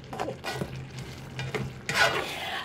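Udon noodles stir-fried with oyster sauce in a pan, a steady sizzle under repeated scraping stirs, close and moderately loud, with a brighter burst of frying near the end.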